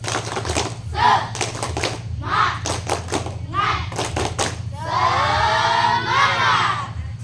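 A school class does rhythmic spirit clapping in a quick pattern of bursts, with children shouting and cheering loudly over a steady low hum.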